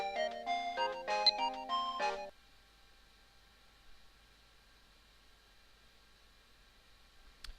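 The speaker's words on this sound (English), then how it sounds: "just when I did that, the phone rang." A mobile phone rings in the Steins;Gate visual novel, a short bright melodic ringtone of stacked tones lasting about two seconds, then near-silence with a faint steady hiss and a tiny click at the end.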